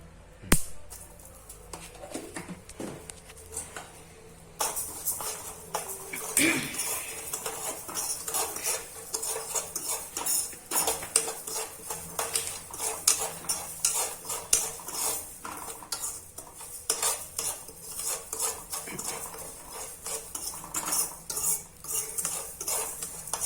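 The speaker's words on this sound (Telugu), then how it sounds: "గింజలు వేయించుకుందాం గార్లిక్ గింజలు మళ్ళీ కొంచెం ఉప్పు యాడ్ చేసుకుందాం" Flax and garlic seeds being dry-roasted with a little salt in a pan, a steady run of scraping, clinking stirs of a spoon against metal with faint sizzling, close and fairly busy throughout.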